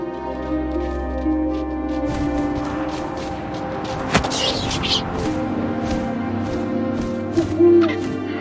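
An owl hoots in the video game What Remains of Edith Finch, a sharp call near the middle over a steady ambient drone of wind and low music, with softer calls following.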